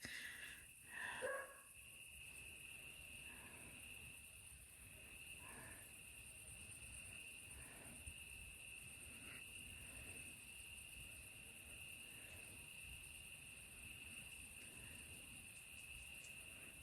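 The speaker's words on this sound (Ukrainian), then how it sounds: "Цвіркуни цвірка, цвіркунчать." Crickets chirp steadily on a quiet night in a village, a thin high trill running throughout, with a brief soft rustle near the start.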